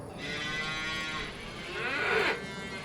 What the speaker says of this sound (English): Look at our baby cows.